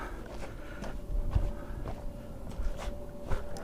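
Footsteps as a shooter walks down to the firing position during an NRL22 rimfire rifle match stage. The steps are irregular and moderately close, over steady outdoor noise, with no talk.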